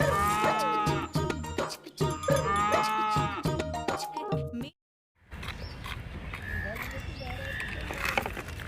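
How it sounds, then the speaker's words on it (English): A toy cow moos over a children's show's background music and lively voices, one loud drawn-out call that breaks off into a brief silence before busier toy-animal sounds resume. "Hey, it's a cow."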